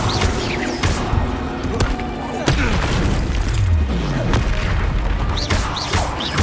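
Spell effects crackle and boom during combat in Hogwarts Legacy as an Incendio fire spell is cast, dense bursts and impacts over a continuous noisy battle bed, with a voice calling out.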